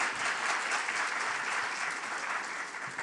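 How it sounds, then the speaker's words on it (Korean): An audience at the 2019 Jeju Forum applauds speakers being introduced, a dense, even round of clapping from a seated crowd that holds steady for a few seconds before easing slightly. "박수로 환영해 주십시오"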